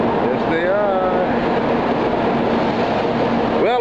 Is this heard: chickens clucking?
no